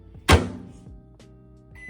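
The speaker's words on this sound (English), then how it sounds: "put them in the microwave." A microwave oven holding cut grapes is shut with a sharp thunk and then hums quietly and steadily nearby, with a faint click and beep near the end.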